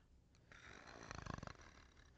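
A voice imitates the snoring of a sleeping elder slumped in his chair: one drawn-out, rumbling snore with a rattling flutter in the middle, close and fairly quiet.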